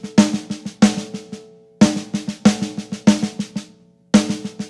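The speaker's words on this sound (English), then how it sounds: "this time you're going to augment it by playing three paradiddles" A drum kit plays augmented paradiddle licks, loud close sticking in clustered groups of crisp hits with accented strokes and short gaps between phrases, played alone.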